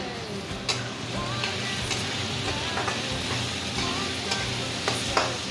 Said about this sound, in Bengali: আলু আর পেঁয়াজ দিয়ে ভালো করে ভেজে নেবো লঙ্কা দিয়ে